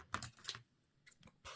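Scissors snip through a homemade paper envelope journal in a few short crisp cuts, with quiet pauses between them, close and fairly soft, with no talking.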